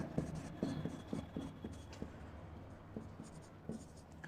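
Writing out a math solution, likely pen on paper: soft, quick scratching strokes in short bursts with pauses, faint and close, over a low background hiss.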